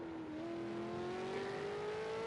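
A race car engine in ARC Supercars holds a steady, droning whine at a chicane, with the pitch easing slightly and no abrupt change; no voices.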